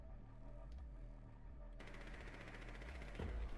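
Gunfire in Rainbow Six Siege aimed down into the floor: a rapid automatic burst, fairly loud and close, that thickens after the first seconds and carries on to the end.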